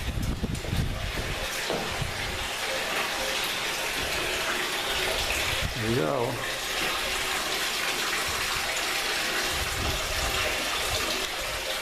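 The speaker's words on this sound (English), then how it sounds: "You have running water." Spring water runs steadily through a stone village on a Greek island, a constant close rush that fills the whole scene, while someone briefly speaks over it.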